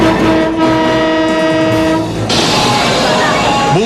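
A PNR commuter train passes close and loud, its horn blaring over a steady rumble and rattle of rolling wagons.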